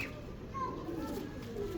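A pigeon coos softly nearby, with a couple of short low warbling calls over a quiet room tone.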